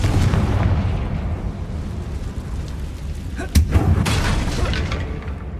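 Confringo blasting-spell explosion in Hogwarts Legacy near a damaged bridge, a sharp single blast about midway through a rumbling low background, with a voice talking over it.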